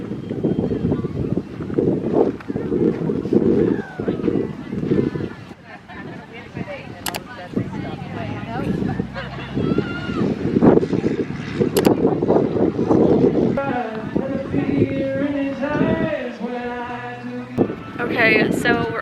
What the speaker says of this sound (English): But yeah, too windy.